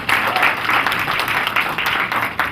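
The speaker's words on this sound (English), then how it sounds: "I would love for you to clap for yourselves" Audience applause at a NetOne cocktail party, a dense steady clapping from many hands filling the room, close and loud with no talk over it.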